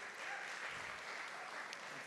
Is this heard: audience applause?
yes